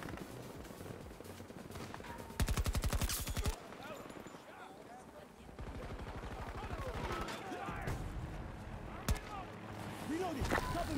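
Rapid bursts of SMG fire from Battlefield 2042 rattle out in quick repeated volleys, loud and close, mixed with other game noise and faint speech.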